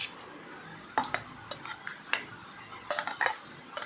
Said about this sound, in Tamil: இப்போ 2த்தையும் போட்டு மிக்ஸ் பண்ணிக்கலாம்.